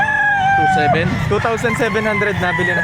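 Roosters crow loudly at a Saturday fowl market behind SM City Lipa in Batangas, one long crow followed by clucking, while people talk and haggle nearby.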